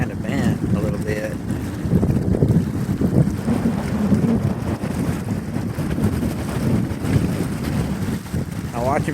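Wind gusts across the microphone at the Newport Bay harbor entrance, a continuous loud buffeting rush mixed with boat engine rumble and water, with a person talking intermittently over it.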